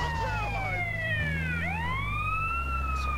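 A loud, continuous ambulance siren sounds in GTA San Andreas, its long wail sweeping down and then back up, over a steady low vehicle drone.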